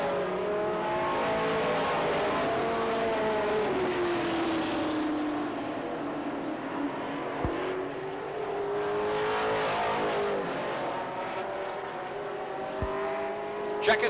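Stock cars race at Beech Ridge Motor Speedway in 1993, a steady engine drone rising and falling as cars circle at mid distance, with a couple of sharp knocks and faint commentary underneath.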